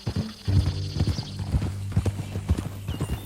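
Horse hooves clip-clop at a steady walking rhythm in a Western open-world game, close and clear, with a low engine-like drone underneath.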